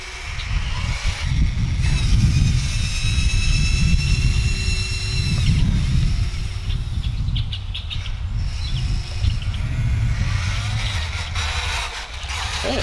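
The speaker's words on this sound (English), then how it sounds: "the front loader is doing pretty good after you know how to kind of operate it" A front loader's engine runs steadily throughout, a loud low rumble with mechanical clanks and ratcheting rattles as the machine is worked, plus brief higher whining tones.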